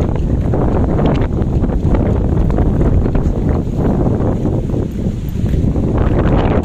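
Strong wind roars over Boracay beach in the Philippines, a loud, steady buffeting rush blasting the microphone with broad noise throughout, with no voices.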